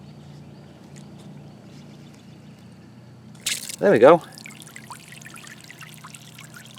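Small solar-powered water fountain starting up in water, a brief burst of splashing spray rising after a faint hiss, over low steady background hum, with someone talking quietly around it.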